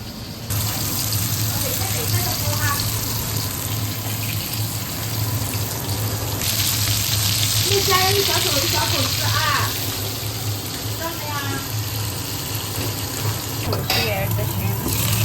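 Fish and shrimp are rinsed under a running kitchen tap, a steady rushing gush of water that swells midway, with a voice talking intermittently over it.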